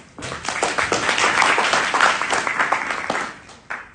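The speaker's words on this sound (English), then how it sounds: "let's give a warm round of applause to welcome President Rob and Kimberly." An audience at a student government meeting claps to welcome a university president and his wife, a close, lively burst of many hands that swells, then tapers off with a final few claps.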